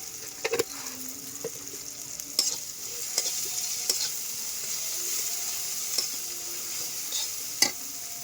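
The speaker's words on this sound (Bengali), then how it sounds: "সাথে একটু জিরার গুঁড়ো তেলের মধ্যে দিয়ে দিই" Cumin powder sizzles in hot oil in a pan for a fig and potato curry while a spoon stirs, with quiet steady frying broken by several crisp metallic clinks and scrapes.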